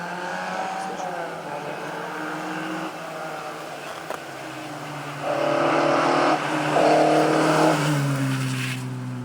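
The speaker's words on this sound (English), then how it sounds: "we've got another car coming up behind us" On a rally stage, a rally car's engine drones steadily nearby, then grows louder and rises in pitch as it approaches and passes by.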